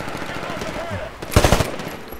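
Gunfire in the Titanfall video game: a sharp burst of rapid automatic shots erupts mid-stretch over a low background of game noise.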